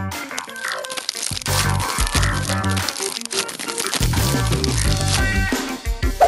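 Crinkly crunching and cracking as a novelty chocolate-style food is peeled by hand, close and fairly loud, in uneven bursts with brief pauses.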